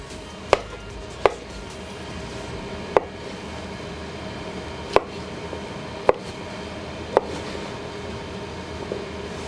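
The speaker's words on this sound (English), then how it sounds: "now we've chopped our mushrooms" A knife cuts chestnut mushrooms into quarters on a board, six sharp, evenly spaced chops with pauses between them over a low steady kitchen hum.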